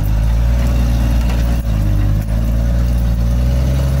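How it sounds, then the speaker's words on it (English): Off-road vehicle engine held at wide open throttle while stuck on a climb, a steady loud low drone with no pauses. "Wide open throttle."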